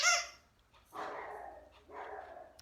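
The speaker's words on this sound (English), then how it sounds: "Barking at something." A dog barks in short bursts at something, a few sharp barks spaced apart in a quiet room, fairly faint and without talk over them.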